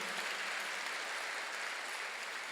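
A church congregation applauding during a Sunday sermon, a continuous, even wash of many hands clapping, fairly distant and sustained throughout.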